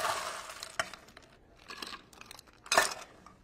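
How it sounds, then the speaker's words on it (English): A spoon stirs a mushroom-infused whiskey cocktail of sweet vermouth and Angostura bitters over ice in a glass, giving close, irregular clinks and rattles of ice against glass, no talking. "Give it a nice stir."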